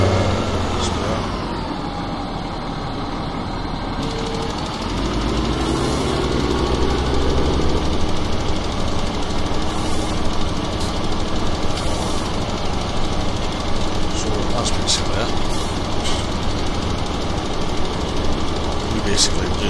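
A big tractor engine in Farming Simulator 17 rumbles steadily and loudly, idling then revving slightly, with a constant low drone and occasional clanks.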